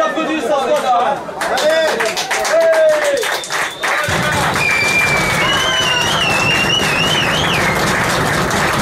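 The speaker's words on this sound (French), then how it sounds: "Allez, gars, on applaudit ça." Crowd at an American football game, with scattered clapping and cheering building after a few seconds, mixed with chatter and a voice speaking over it.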